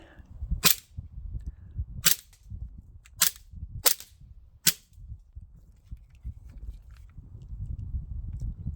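An Umarex Glock 19 Gen5 MOS air pistol fires five sharp snapping shots at uneven intervals over low background rumble, close and loud.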